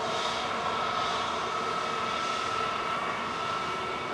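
An eight-year-old EasyJet Airbus A320 landing at Manchester Airport produces a steady, fairly loud jet roar with a sustained tonal whine, unbroken and alone for the whole stretch.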